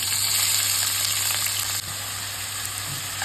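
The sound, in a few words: sliced onion frying in oil with curry leaves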